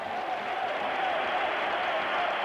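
Crowd at AS Roma's stadium applauding the players at half-time of a 1983/84 European Cup semi-final against Dundee United, a dense, steady roar of clapping and cheering filling the air throughout.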